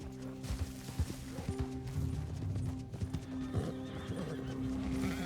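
A horse in Red Dead Redemption 2, with loud whinnies and neighs over a steady clip-clop of hooves, heard up close as in-game audio.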